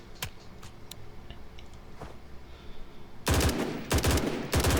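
Full-auto bursts of rifle fire in the Blackhawk Rescue Mission 5 video game, three loud rapid bursts near the end after faint clicks and quiet background.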